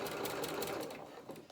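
A sewing machine stitches lined curtain fabric in one brief, continuous whirring run, steady and close, tapering slightly toward the end.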